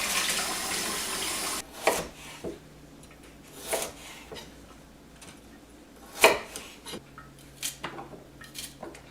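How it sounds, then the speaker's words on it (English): Cold tap water runs steadily into a kitchen sink while hot water from cooking cabbage leaves is dumped in, with pot clanks and splashy surges over the faucet stream, close and moderately loud. "just run the cold water as I dump the hot water in, just so that I don't risk damaging the pipes."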